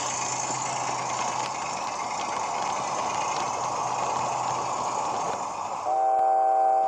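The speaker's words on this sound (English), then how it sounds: "the first down ore train of the day is ready to depart down the line" A model railway ore train departs, rumbling and humming steadily for several seconds, then a sustained horn-like tone sounds near the end; no talking.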